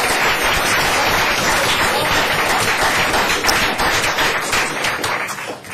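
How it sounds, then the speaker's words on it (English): A room at a city council meeting breaks into sustained applause, dense loud clapping from many hands that holds steady and begins to fade at the end. "I think they deserve a round of applause."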